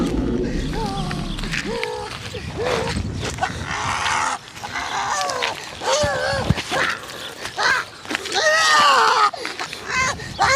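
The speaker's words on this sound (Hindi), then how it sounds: "ये कौन चिल्ला रहा है?" A bald man screams in a Hindi comedy skit, his loud, strained cries rising and breaking repeatedly over a busy mix with other voices talking, lasting most of the stretch.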